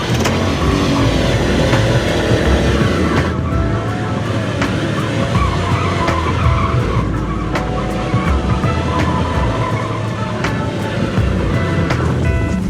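A 1997 BMW 740iL E38 doing donuts, with loud continuous tire skidding and a roaring engine that rise and fall as the big sedan spins, close and sustained without pause.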